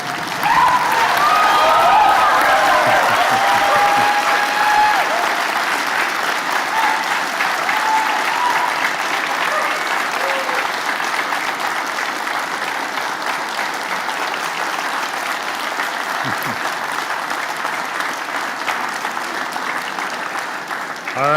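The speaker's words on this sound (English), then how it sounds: "clap, applaud, stamp your feet, shout and holler" A graduation convocation audience claps and cheers in a loud, dense, sustained roar of applause that runs throughout, with shouts mixed in and no pause.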